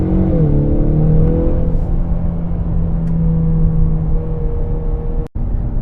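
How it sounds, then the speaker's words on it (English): A 2024 Ford Mustang EcoBoost in track mode revs up with a rising engine note, then holds a steady loud drone from inside the car before a sudden brief cut near the end. "even the engine sound, all of this gets really aggressive in the track mode"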